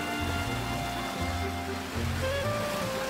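Sea waves surging and breaking against the broad flat rocks of Yeonggeumjeong on the Sokcho coast, a steady loud wash of surf with low rolling swells that rise and fall close by, no voices.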